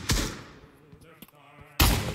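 Gunfire in the Hell Let Loose VR game, two loud sharp shots at the start and end with ringing echo and faint clatter in between.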